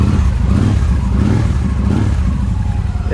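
A 2013 Victory Vision Tour ABS motorcycle engine running on its stock exhaust, a steady, fairly loud low grumbling rumble that stays muffled and even throughout, close by with no talking.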